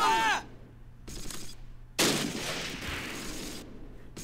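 Bursts of video game gunfire from Close Combat: Last Stand Arnhem crack out in scattered, fairly faint volleys, with short sharp reports and a longer rattling burst separated by quiet gaps.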